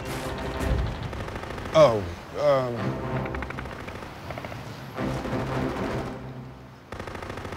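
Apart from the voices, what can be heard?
heavy 50 caliber machine gun fire in a film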